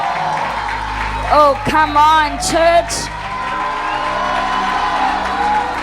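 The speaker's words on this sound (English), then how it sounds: "shout your hallelujah and clap your hands" A church congregation cheers during a worship service, with loud whoops and shouted voices rising over a steady crowd din while someone speaks.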